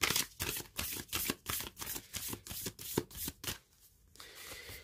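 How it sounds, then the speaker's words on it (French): Oracle cards being shuffled by hand, a quick series of soft riffling snaps in a steady rhythm, close and fairly quiet, ending in a short rustle with no talking. "je vais tirer 2 cartes de l'oracle de la vision intérieure pour avoir 2 derniers messages"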